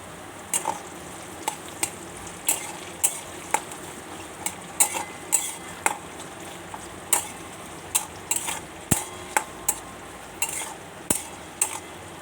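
Onions fry in a pan while a long spatula stirs them, giving a low sizzle under repeated sharp metallic scrapes and knocks that come in an uneven but steady rhythm throughout.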